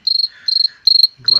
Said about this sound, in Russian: Перестал лапать, опять сверчит.